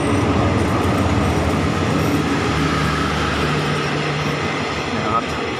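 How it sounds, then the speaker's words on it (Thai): An air-conditioned passenger train runs through Khlong Bang Tan railway station with a steady, loud rumble of wheels on rails and a faint squeal partway through. "รถไฟกำลังจะมาเข้าจอดที่ชานชาลาที่สถานีคลองบางตาลนะครับ"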